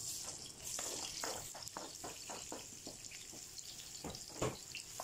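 Sliced onions sautéing in hot cooking oil for Indian chicken biryani, a steady soft sizzle with scattered crackles and pops, close and alone without talk.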